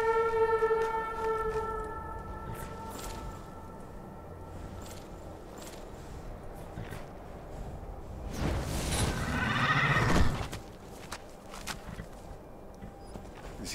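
A horse neighs in the video game Skyrim, a loud, shrill whinny near the middle that rises and then cuts off, set against a quiet ambient backdrop with a tonal chime at the start.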